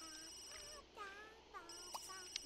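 A phone rings in The Sims 3, a faint electronic ringtone with repeating tonal bursts under game music and soft voices.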